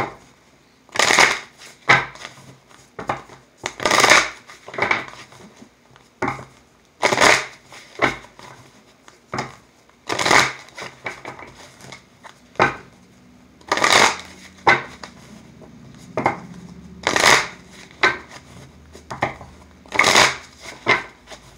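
Tarot cards shuffled by hand for a reading, in about eight repeated riffling bursts at a steady rhythm, close and crisp, with faint low background hum and no talking.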